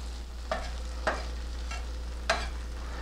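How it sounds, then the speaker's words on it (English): Shredded potato hash browns fry in a pan with a steady sizzle, while a spatula scrapes and pats the mound into a round shape in three distinct strokes, no voices present. "We're going to let that sit there and cook until it browns."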